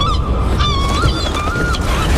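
A goose-like bird honks loudly and close in a TV show scene, a series of harsh, nasal honks running continuously without pause.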